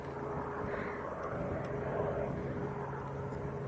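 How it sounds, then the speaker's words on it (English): A PDG Twin Squirrel helicopter flies at Leeds East Airport, producing a steady, continuous engine and rotor drone with a low hum that holds at an even loudness throughout. "It's one of the PDG helicopters."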